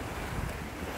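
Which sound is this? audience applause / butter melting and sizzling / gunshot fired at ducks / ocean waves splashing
ocean waves splashing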